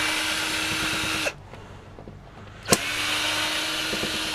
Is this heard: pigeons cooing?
no